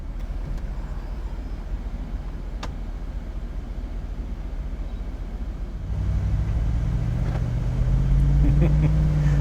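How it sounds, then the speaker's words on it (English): A 2006 Mercedes-Benz CLK63 AMG driving with the top down, its low exhaust rumble and road noise growing louder and deeper as it picks up speed midway, with the engine note rising toward the end. "we really do get to hear that beautiful exhaust note of this car"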